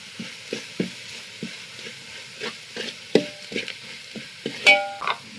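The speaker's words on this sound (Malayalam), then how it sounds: "അച്ചാർപ്പൊടി എല്ലൊന്ന് മൂപ്പിച്ചെടുക്കുക" Pickle spice powder frying in a pan for wild mango pickle, soft sizzling with repeated stirring scrapes in an irregular rhythm, close and fairly quiet with no voices.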